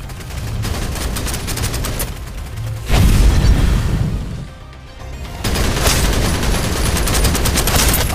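Gunfire in the shooter Snowbreak: Containment Zone: rapid automatic bursts rattle loudly, broken by a heavy blast near the middle, then another sustained stream of fast shots.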